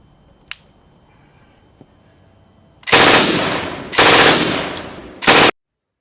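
MG42 machine gun, 7.92mm, firing three rapid bursts in close succession: loud, dense ripping roars after a couple of faint clicks, then sudden silence.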